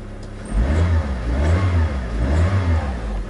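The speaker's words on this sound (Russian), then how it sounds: "Вроде так газует, и что-то вот обороты даже не падают." Mitsubishi car engine with a cylinder 3 misfire revving: loud, close, uneven low rumbling surges rise and fall in repeated throttle blips, the revs staying high between them.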